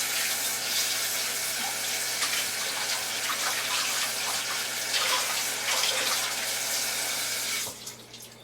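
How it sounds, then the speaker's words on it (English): Water runs steadily from a kitchen tap as hands are rinsed beneath it, a continuous close splashing stream that cuts off abruptly near the end. "I want to rinse my hands off"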